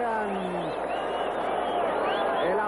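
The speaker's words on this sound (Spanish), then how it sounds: "aplauso fuerte en esta monumental Arena México" Dense wrestling crowd at Arena México roaring and clapping through a big ovation, steady and loud throughout, with a commentator's voice riding over the noise.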